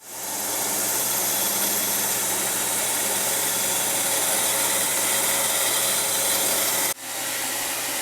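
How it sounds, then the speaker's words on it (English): A bandsaw runs continuously while cutting a diamond shape from wood for a custom Telecaster guitar build, giving a loud, steady, even whine with a short dip near the end before resuming. "take this over to the bandsaw and cut this shape out as close to that line as I can get it"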